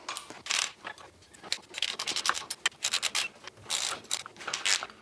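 A ratchet tightens the nut on a coil spring compressor while changing the shocks and springs on a Mitsubishi Lancer CE, giving a close run of quick scratchy clicking bursts in uneven spurts, with no talking.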